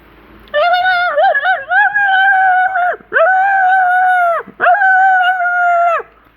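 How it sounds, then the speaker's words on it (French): An injured dog howls and whimpers in pain, three long wavering cries with short breaks between them, loud and close with no other sound around. "Voilà le chien qui souffre."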